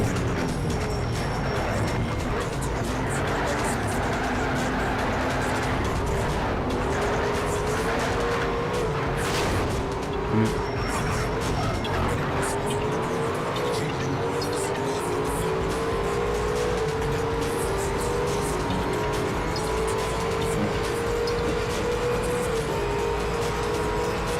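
Race cars in the Need for Speed: Shift racing game run a three-lap event, engines droning steadily and loud with rising revs, gear changes and occasional tire squeal throughout, no voices over the engines.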